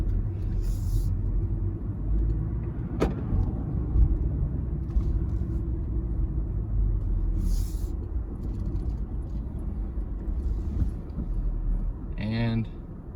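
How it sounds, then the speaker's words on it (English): Interior drone of a 1970 Monte Carlo driving on the road, a steady low rumble of engine and tire noise throughout, with a brief higher whine near the end. "Starting the long drive over to the welder here."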